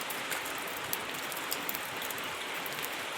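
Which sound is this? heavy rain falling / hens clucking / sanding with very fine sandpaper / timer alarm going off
heavy rain falling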